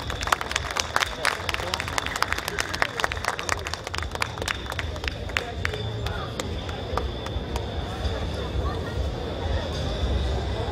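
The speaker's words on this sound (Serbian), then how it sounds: "Molim vas jedan aplauz" An audience at an outdoor cabbage festival award ceremony claps for a third-place winner, dense rapid applause that thins out over about ten seconds, with a voice talking over it.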